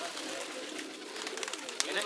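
Madrasi-breed pigeons coo in a loft after being let out, soft throaty calls close by mixed with someone talking.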